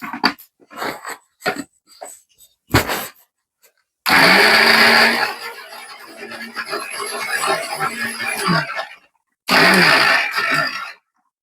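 A kitchen mixer grinder blends tomato chutney in loud bursts of whirring motor noise, first a long run and then a shorter one, with scattered clatter and handling sounds in between.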